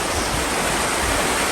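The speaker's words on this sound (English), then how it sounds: "Here we are, the rapid water flowing to the sea again." Rapid water rushing toward the sea beside a beach, a loud, steady broadband roar close by with no pauses and no voices.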